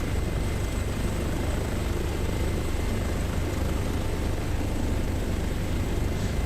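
An HPG H145 emergency medical helicopter in Microsoft Flight Simulator gives a steady, loud rotor and turbine drone over Glasgow that holds at one level from start to finish, with no talk.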